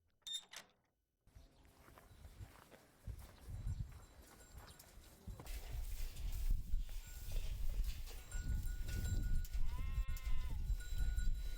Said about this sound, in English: Yanshu County is also known for a particular breed of sheep